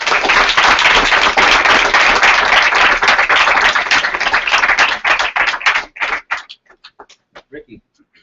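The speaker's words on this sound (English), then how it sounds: "Give her a round of applause." A room full of people gives a round of applause: dense, loud clapping for about six seconds, then thinning into a few scattered claps as it fades out.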